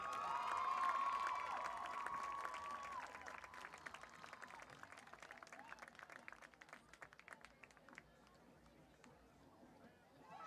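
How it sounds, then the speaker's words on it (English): Stadium crowd clapping and cheering for a senior band member at a school football game, loudest at the start, then fading into scattered claps and distant crowd noise. "Ladies and gentlemen, a big round of applause for your senior"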